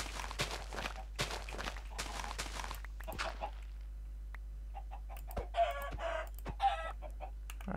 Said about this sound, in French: Putain, ils vont me rendre fou ces poulets.